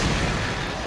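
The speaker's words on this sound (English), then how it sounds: "What's the range on these flash grenades?" A flash grenade going off in the video game Resident Evil 4, a loud, dense, roaring blast that fills the whole moment without a break.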